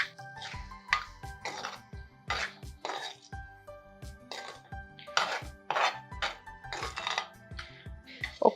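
Quinoa khichdi being stirred in a pot, with repeated clinks and scrapes of a spoon against the vessel in an irregular rhythm, close and clear, under someone speaking.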